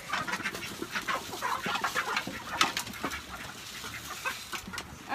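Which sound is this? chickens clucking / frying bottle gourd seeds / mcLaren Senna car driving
chickens clucking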